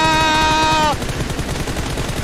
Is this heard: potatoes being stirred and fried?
no